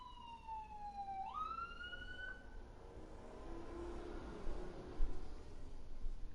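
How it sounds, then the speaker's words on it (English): An ambulance siren wails with a falling then rising pitch sweep as it drives by, fading into a low rumble of traffic and room noise. "just heard the ambulance screaming by, taking Colt to the local hospital"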